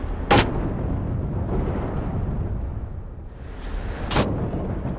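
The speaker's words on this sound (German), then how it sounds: "Aber eine Kiste, die explodiert?" An explosive crate blows up in the Black Mesa shooter game, giving two sharp, loud blasts a few seconds apart with a rumbling low background between them.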